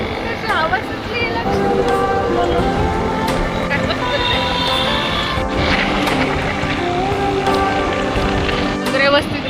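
Rain pours down on a village road during a windstorm, a dense continuous roar of drops on surfaces with passing traffic and voices talking through it.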